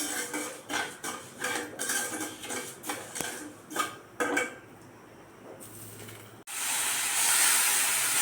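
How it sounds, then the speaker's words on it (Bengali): Black gram dal fries in oil with cumin in a pan, a series of rhythmic scraping and stirring clatters followed by a sudden loud, sustained hiss of sizzling. "মাসকলাইয়ের ডালগুলো তেলে ভাজতে হবে একটু।"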